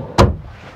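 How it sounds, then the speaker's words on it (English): Deep full-extension bedroom drawer in a 2008 Fleetwood Fiesta 31M LX motorhome, a single short, close thud as it slides and stops, followed by faint room quiet. "you have nice deep drawers here too that come out."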